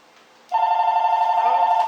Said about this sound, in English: these phone calls haven't stopped